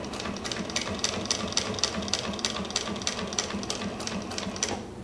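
A Sailrite mini walking foot sewing machine stitching through heavy fabric, close and steady, its rapid rhythmic needle clatter running continuously and stopping at the end.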